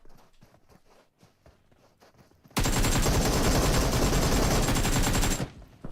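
Gunfire from the video game PUBG Mobile: a loud, sustained burst of rapid automatic shots erupts after a quieter stretch of faint footsteps and small sounds, then cuts off.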